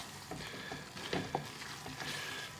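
Vegetable vindaloo sauce brought back to the boil in a pan, bubbling and sizzling steadily at moderate level, with a few soft stirring knocks and pops scattered through.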